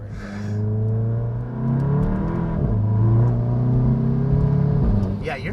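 Modified VW GTI accelerating hard in second gear after a downshift, engine note climbing steadily in pitch and loudness from inside the car, with people talking over it.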